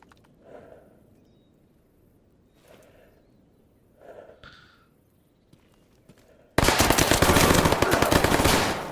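Video game gunfire in STALKER GAMMA: a few faint, scattered shots at a distance, then a sudden loud, sustained automatic burst that fills the last couple of seconds.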